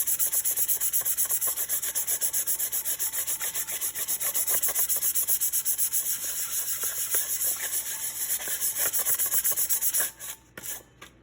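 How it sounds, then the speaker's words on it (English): A sanding block rubs steadily over a tumbler during prep work, producing a continuous close scraping rasp that runs without pause for about ten seconds before breaking into a few short strokes at the end. "grab my sanding block and just go over that"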